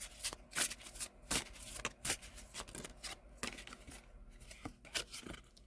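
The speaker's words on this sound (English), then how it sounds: "Now I'm going to pull a spirit animal card, just one card for this reading." Spirit animal oracle cards riffle and slide in a rapid, close string of crisp papery flicks and slaps, fairly quiet, with no talking.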